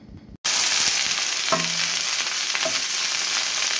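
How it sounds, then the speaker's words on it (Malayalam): Mustard seeds and two dried chillies crackle and sizzle loudly in hot oil for an okra thoran, a steady close frying hiss with a few pops, starting abruptly after a brief quiet moment. "1/2 സ്പൂൺ കടുക് ഇട്ടു. രണ്ട് മുളക് ഇട്ടു."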